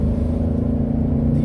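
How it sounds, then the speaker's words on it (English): A Nissan Titan pickup's engine revs with a deep, steady exhaust rumble, loud and close, sustained throughout. "Do you hear that exhaust?"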